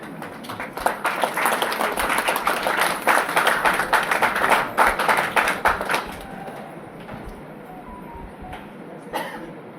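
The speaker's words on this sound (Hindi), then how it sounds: "आप लोग उनका उत्साहवर्धन करेंगे तालियों के साथ" An audience at a World Earth Day student program at Shri Mahavir Vishwa Vidyapeeth claps in dense, lively applause for about six seconds before it fades to quiet room tone and a last stray clap.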